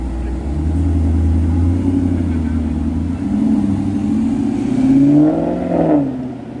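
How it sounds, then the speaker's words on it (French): A car engine revs on a street in Monaco, a low rumble that swells and eases several times, rising to a sharper climb near the end, close by and fairly loud. "on est sur une vraie voiture qui a un vrai bruit moteur"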